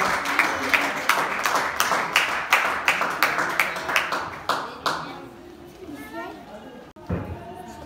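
Women clap together in rhythm at a church service praising God, with loud steady claps for about five seconds that then fade into voices and murmuring.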